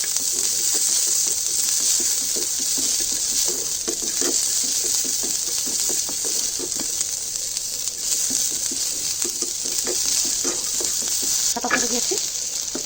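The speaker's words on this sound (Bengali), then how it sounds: "পেঁয়াজটাকে আমি একটু ভাজবো।" Onion fries in a pan for a jackfruit-seed bharta, a continuous close bright sizzle with repeated soft scraping stirs throughout, no talk.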